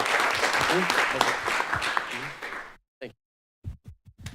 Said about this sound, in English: We're going to clap anyways.